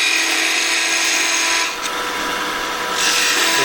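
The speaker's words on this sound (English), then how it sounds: "I just prefer the skew and a peeling cut" Skew chisel peeling wood on a lathe while roughing an acorn box shell, a continuous close rasping, whirring cut over the spinning motor, with a brief dip midway before the scraping swells again.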